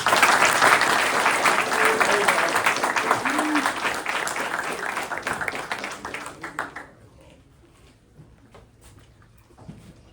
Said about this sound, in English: can we get another round of applause for all these guys who did so well this year?